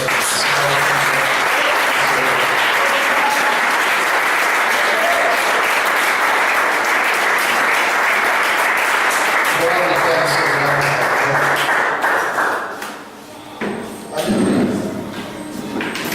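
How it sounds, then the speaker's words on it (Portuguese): Congregation applauding in a church, a sustained dense wash of loud clapping with some voices mixed in, lasting about twelve seconds before thinning out into scattered sounds. "Vamos aplaudir o Senhor."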